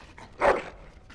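A single dog bark in the video game Dragon Age: Origins, one short sharp yelp alone, fairly close.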